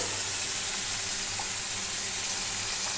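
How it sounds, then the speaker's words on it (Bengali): Hot water poured into a pan of oily, fried-down spiced fish curry base for pomfret gives a steady, close hiss and sizzle without pause, with no talking. "একটু দিয়ে দিই গরম জল"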